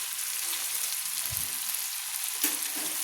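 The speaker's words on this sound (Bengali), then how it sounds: "মশলাটা কুমড়ো, আলু এবং তেলের সঙ্গে কষিয়ে নিচ্ছি" Pumpkin, potato and ground spices (turmeric, Kashmiri chili, cumin) frying in oil for a Bengali pui chyachra with fish head, a steady close hiss with a couple of soft spoon scrapes, no talking.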